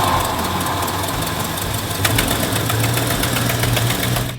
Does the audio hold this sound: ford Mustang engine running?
yes